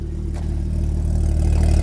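A Porsche Cayman with a very loud aftermarket exhaust idles close up, a deep, steady, slightly lumpy burble with a faint clattering edge that swells a little in volume toward the end.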